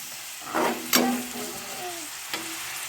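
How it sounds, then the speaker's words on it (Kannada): Chicken keema with turmeric powder frying in a pan, a soft steady sizzle with a few scraping stirs of the spoon, close and moderately quiet. "ಸ್ವಲ್ಪ ಅರಿಶಿನ ಪುಡಿಯನ್ನು ಸೇರಿಸಿ ಇದನ್ನು ಚೆನ್ನಾಗಿ ಮಿಕ್ಸ್ ಮಾಡಿ ಸ್ವಲ್ಪ ರೋಸ್ಟ್ ಮಾಡ್ಕೊಳ್ಳಿ"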